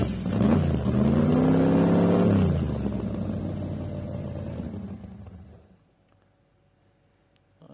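A drag racing dragster engine refires after a burnout at a Queensland drag racing championship, roaring loud and close with a rising rev before settling to a lower rumble that fades out near the end.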